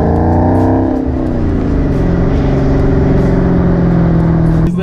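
A 2018 Dodge Challenger Hellcat Widebody with a 6-speed manual accelerates, its supercharged engine droning loudly and close with a rising whine over the exhaust, the pitch dropping as a gear changes before climbing again.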